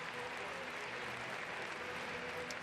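A crowd cheers and applauds at the 2025 UK Indoor Athletics Championships as a race walker takes another title: a steady, distant wash of clapping and crowd noise that holds evenly throughout at low volume, with no voices standing out.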